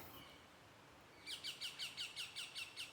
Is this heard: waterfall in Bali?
no